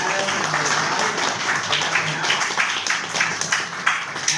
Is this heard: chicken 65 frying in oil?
no